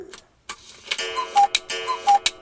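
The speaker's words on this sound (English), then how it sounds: "Cuckoo clock." A cuckoo clock from a sound-effects pack gives a few sparse ticks, then a run of bright mechanical clicks and short pure chime tones, close and clear with no talk.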